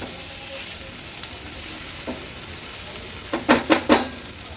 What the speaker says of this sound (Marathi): एक टोमॅटो घेतला आहे तो ॲड करूया टोमॅटो पण वाटणासोबत छान परतून घेते